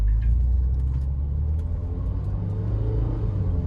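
Car pulling away from a complete stop, engine rumbling low as it accelerates, with a brief transmission shudder in second gear; close, steady and fairly loud with no talk.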